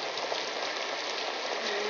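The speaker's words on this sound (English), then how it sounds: "It's raining pretty hard." Heavy rain pours down in a steady, dense hiss, filling the scene evenly from start to finish with no voices over it.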